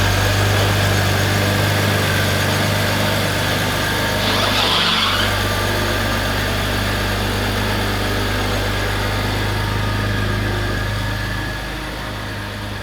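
A car engine idles steadily and loudly up close throughout, with a low constant hum and vibration, easing off slightly near the end; no talking.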